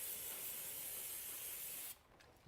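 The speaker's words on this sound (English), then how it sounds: "I'm just going to spray this down real quick." Aerosol spray can hissing steadily onto car parts during a front CV axle job on a 2011-2016 Toyota Sienna AWD, one close continuous burst that cuts off near the end, leaving faint background sound.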